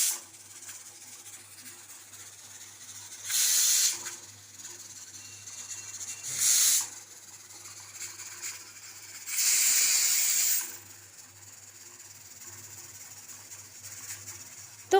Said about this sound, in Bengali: সিটি দেওয়া শুরু করে দিয়েছে, অলরেডি 5টা সিটি হয়ে গেছে